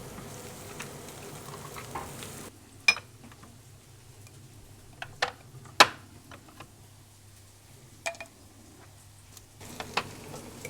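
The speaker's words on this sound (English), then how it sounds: "Now I'm going to switch off the onions and add it to the meat." Fried onions go into a pan of Kenyan meat sauce and are stirred, giving a quiet sizzle with scattered sharp scrapes and taps of the spoon against the pan.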